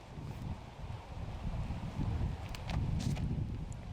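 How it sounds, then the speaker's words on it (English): Strong gusting wind on a disc golf course, a continuous rough roar buffeting the microphone with no talk. "There's some pretty severe wind out here, playing into a dead headwind"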